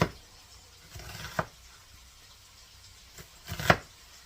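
Knife chopping onion into half moons for a sausage, peppers and mushroom bake: a few sparse, sharp cuts against a board, with a couple of louder strikes near the start and end amid quiet gaps.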